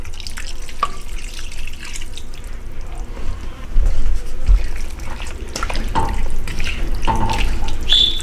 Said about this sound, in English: Add 3/4 cup of hot water into this.